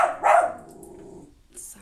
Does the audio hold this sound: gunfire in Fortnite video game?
no